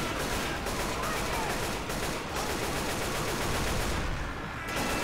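Gunfire in the zombie shooter Left 4 Dead 2 rattles in a dense, continuous barrage, loud and unbroken, filling the whole stretch.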